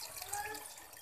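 Water left from boiling chickpeas gets poured into a black chana and egg curry, a brief soft trickle and splash with light dripping, faint and short, with no talk over it.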